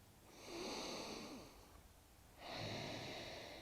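Two slow, audible breaths through the nose during a balance pose in a back-pain yoga routine, each a soft, airy hiss swelling and fading, close and steady, with no talking.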